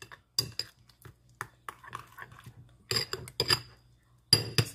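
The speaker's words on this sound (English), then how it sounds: "Stir it well." A spoon stirring honey into a glass, giving a series of sharp, bright clinks against the glass in irregular bursts with short pauses between them.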